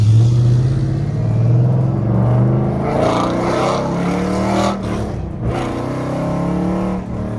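A Dodge Challenger with a Stage 2 cam upgrade rumbles and revs with a deep, loud, lopey engine note that rises and falls while driving, close and continuous throughout.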